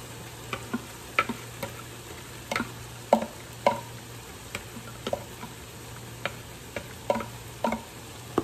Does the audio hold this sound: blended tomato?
yes